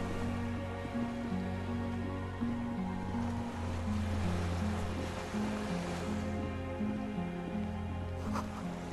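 Ocean waves wash against an island shore in the Disco Elysium video game, a steady soft surf heard under a sustained melodic music bed throughout.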